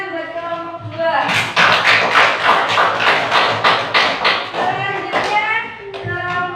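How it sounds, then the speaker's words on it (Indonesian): Schoolchildren in a classroom clap for a student group, a rhythmic burst of close, sharp claps in unison after a teacher's voice, with talking and chatter before and after. "tepuk tangan buat kelompok 2."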